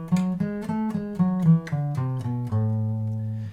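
A melodic minor scale played on guitar, single plucked notes stepping along one after another in an even rhythm, close and clear, the last note left ringing, with no talking.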